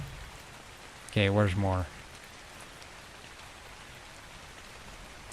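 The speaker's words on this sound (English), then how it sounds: "Nice rain on Scorched Earth, though. It's always nice when it's raining." Steady rain falls in the video game ARK: Survival Ascended on the Scorched Earth map, a soft, even hiss throughout, briefly under a short spoken phrase.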